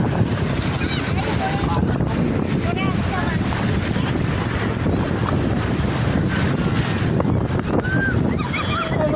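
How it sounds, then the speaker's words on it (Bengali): Large waves breaking at Old Digha beach, a constant loud churning wash of surf with strong wind rumble across the microphone and brief cries in the background. "এই হচ্ছে কিছু সিন সমুদ্রের, আর প্রচুর বড় বড় ঢেউ।"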